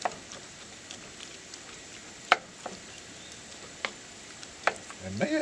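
Soft, steady sizzling of Mexican lasagna ingredients frying in a cast iron pan, with a few sharp clinks from stirring scattered throughout.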